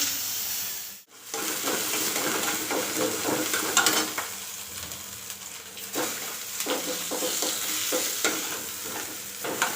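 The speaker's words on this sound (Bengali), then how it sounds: "মাছের মাথা একটু ভাজা করে নেব" A fish head fries in a pan on a home stove while being stirred, giving a steady loud sizzle with repeated scraping stirs and a short break near the start.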